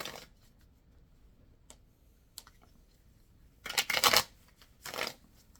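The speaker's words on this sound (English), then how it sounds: "He's shuffling the cards, focusing on career." Soft, intermittent riffling of tarot cards being shuffled, with a few quiet clicks and two louder bursts of shuffling near the end.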